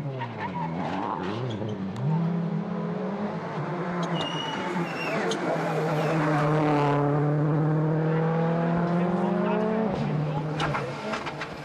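WRC rally cars race at the 2007 Rallye d'Allemagne, engines revving loudly up and down through gear changes with tyre squeal, close and sustained, while a commentator's voice runs underneath.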